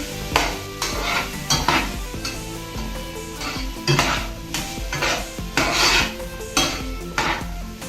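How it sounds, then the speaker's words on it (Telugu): Tomato and cucumber pieces fry in a pan while being stirred, giving steady sizzling with repeated scraping strokes and clinks of a utensil against the pan, close and continuous with no talking. "ఒకసారి కలుపుకొచ్చి బాగా ఫ్రై చేసుకోవాలి."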